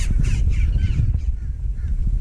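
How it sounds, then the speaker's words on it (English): Blackbirds and cowbirds call by a lake in a busy overlapping chorus of harsh, raspy chattering notes, fairly close and continuous over a low outdoor background. "Got some blackbirds in here,"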